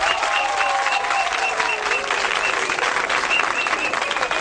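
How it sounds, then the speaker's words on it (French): A crowd applauds in the courtyard of the Magic System nursery school in Anoumabo, Côte d'Ivoire: dense, sustained clapping that stays loud and even throughout, with a faint tonal voice under it. "oui, vous pouvez applaudir le FEMUA."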